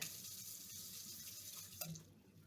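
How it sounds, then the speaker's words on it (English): Water from a lab sink tap runs steadily while a thermometer is rinsed after a Hess's law experiment, with a brief splash or clatter near the end before the flow quiets. "Rinse off your thermometer."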